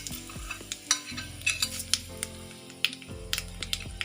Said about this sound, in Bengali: আমার তেল গরম হয়ে গেছে, এবার আমি একটু ফোড়ন দেব।